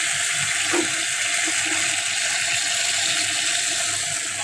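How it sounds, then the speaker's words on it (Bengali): Water poured into a pan of sautéed pumpkin (mishti kumra) gives a steady, even rushing hiss that runs unbroken for several seconds, close and fairly loud, with no voices. "একটু জল দিয়ে দিচ্ছি মিষ্টি কুমড়ায়।"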